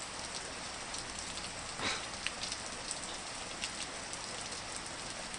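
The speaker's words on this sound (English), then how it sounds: "Now it's beginning to rain." Rain falls steadily as a dense, even hiss of drops with a few louder patters, continuous and close, with no voices.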